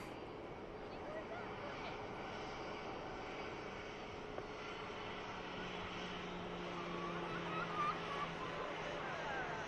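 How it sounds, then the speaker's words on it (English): A Virgin Atlantic Airbus A330 arriving from Atlanta rumbles steadily on approach to Manchester Airport on a hazy, hot day, a continuous distant engine roar with a slowly building tone. "Next aircraft to touch down is a 330 from Virgin Atlantic"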